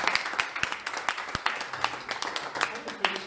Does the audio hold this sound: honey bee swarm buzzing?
no